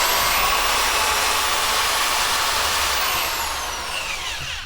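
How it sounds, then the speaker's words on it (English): A hand drill whirs loudly and continuously as it spins fishing rod grips onto a mandrel, with a steady high motor whine that eases slightly near the end. "we just use that hand drill"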